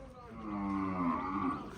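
A cow on a farm gives a single drawn-out, low moo that swells and holds, fairly faint and close, with no other sound alongside.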